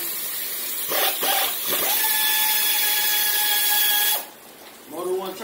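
A power tool works loose the crankshaft pulley on a 350 engine. It gives short bursts and then a sustained whine for a few seconds before stopping abruptly, with a person's voice nearby.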